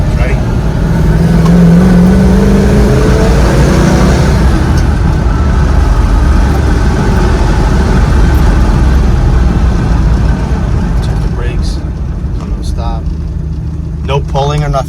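A 351 Cleveland V8 with a 4-barrel carburetor in a Ford Montego wagon revs loudly and steadily at close range, a dense engine roar running the whole time and easing slightly toward the end, with a voice briefly heard.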